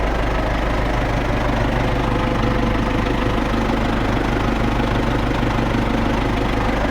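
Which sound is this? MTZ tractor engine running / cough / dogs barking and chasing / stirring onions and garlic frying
MTZ tractor engine running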